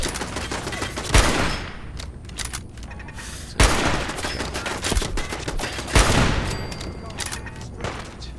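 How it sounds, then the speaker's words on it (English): Gunfire in the Fallout 4 video game aimed at an Automatron and turrets, several sharp loud bursts of shots spaced a few seconds apart with crackling tails and fainter pops between. "So I'm putting a couple of shots into his Automatron Devil."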